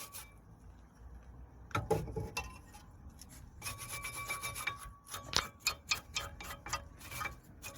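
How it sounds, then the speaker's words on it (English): A wire brush scrubs dust and debris from the brake pad seat on a seized front caliper of a Toyota Yaris Vitz, giving repeated close, gritty rasping strokes in uneven bursts, with no talking. "we're going to clean the area where the brake pad's going to sit. So we're going to be using a wire brush"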